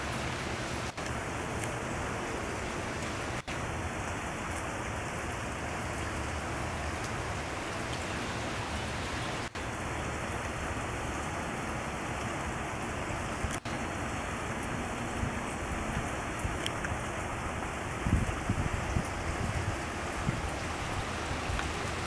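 Heavy rain pours steadily outside a home, a dense, continuous hiss with a few sharper drips and knocks, close and unbroken for the whole stretch with no one talking.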